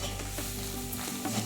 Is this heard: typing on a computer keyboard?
no